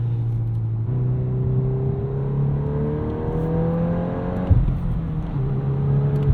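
A 2022 Volkswagen Golf R with a six-speed manual revs in drift mode, a steady droning engine note that climbs in pitch, dips sharply, then pulls again, heard from inside the cabin with no talking.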